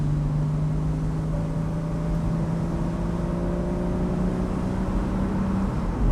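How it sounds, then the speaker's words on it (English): A Porsche 981 Boxster flat-six engine with sports exhaust accelerating on a road, a steady rising engine drone with tonal whine heard from inside the car, continuous and fairly loud throughout. "Nice bit of flat six there."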